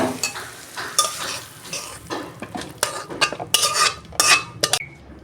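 A cooked dish of bitter gourd, potato and eggplant is scraped out of a pan, with a series of sharp metal spatula scrapes and clatters over a faint sizzle and no talking.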